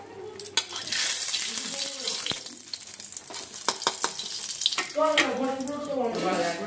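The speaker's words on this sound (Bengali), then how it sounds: "তেলটা গরম হয়ে গেছে, আমি সর্ষে ফোড়ন দিয়ে দিয়েছি" Mustard seeds crackle and sizzle in hot mustard oil in a kadai, a busy hiss with sharp pops, up close, and someone talks over it at times.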